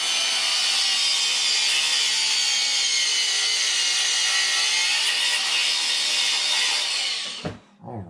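A power tool steadily cutting a Tekno MT-410 RC truck bumper, a loud, continuous high-pitched grinding whine for about seven seconds that stops abruptly, followed by a couple of brief knocks.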